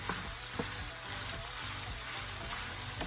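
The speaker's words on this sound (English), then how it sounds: "So I'm gonna add the poblano peppers, and I'm gonna mix it really well." Poblano peppers stirred into onions in a hot pan give a soft, steady sizzle with faint scrapes of mixing, quiet and close.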